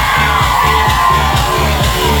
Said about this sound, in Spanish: Los mejores amigos pegan un grito bien fuerte.